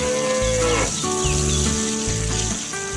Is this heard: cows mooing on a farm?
yes